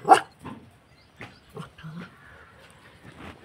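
A dog gives a short bark, then a series of soft whimpers and yips, close by in a quiet room.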